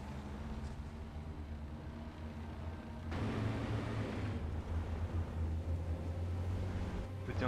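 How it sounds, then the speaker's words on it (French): Convoy vehicle engines in Company of Heroes 2 rumble low and steady, growing louder and heavier about halfway through as the vehicles draw nearer, with wind-like noise over the top. "on entend le bruit des moteurs"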